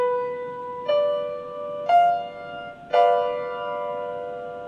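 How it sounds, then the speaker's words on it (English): A diminished triad built on the seventh scale degree sounds in a clear, sustained keyboard-like tone, its notes entering one after another about a second apart and ringing together at the end. "you would never in a million years look at the 7th because it turns out to be diminished and sounds like this"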